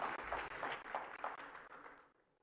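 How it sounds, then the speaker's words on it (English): Audience applause greets a panel taking the stage for a fireside chat at the Tamil Nadu Global Investors Meet 2024, a dense steady clatter of many hands that fades out toward the end. "Can we give them a nice big round of applause and kickstart the fireside chat?"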